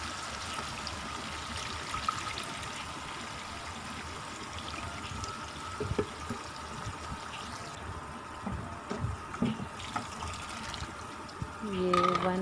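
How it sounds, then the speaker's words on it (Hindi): Yakhni broth pours into drained rice for beef pulao, a soft trickling, splashing stream of liquid running continuously and faintly, with a few clinks of kitchen utensils near the end. "इसमें वो यखनी डाल दूँगी।"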